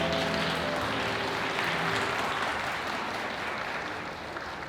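Wedding guests in a hall give a sustained round of applause after the vows, steady dense clapping with faint tones underneath, tapering slightly at the end.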